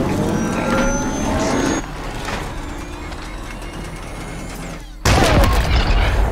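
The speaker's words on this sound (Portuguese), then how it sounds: "Morreu na explosão." Explosion in the video game Halo Infinite, a sudden loud broadband burst that cuts in abruptly near the end over a continuous rumbling game soundscape.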